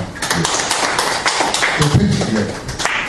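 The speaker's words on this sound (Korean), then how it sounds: "박수 부탁드립니다" Dense audience applause at a Korean national salvation forum, a steady close wash of many hands clapping that carries through the whole stretch.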